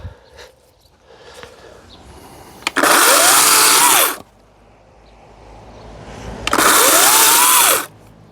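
A cordless battery garden saw cuts through a stick in two loud, close bursts of about a second and a half each, whining up and down in pitch, with quiet handling noise between them.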